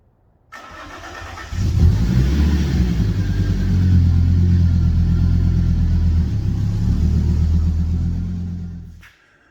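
A Fiat Coupe's engine catches about half a second in, swells into a loud, steady, deep rumble as the car is driven off a ramp, then cuts out abruptly near the end, with no talk.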